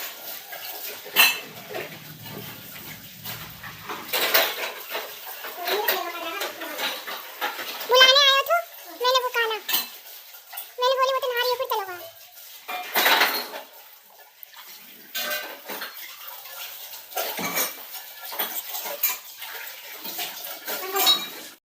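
Dishes, pots and utensils washed with running water in a home kitchen, with repeated clinks and clatters of metal utensils over splashing water, close by, and someone speaking intermittently.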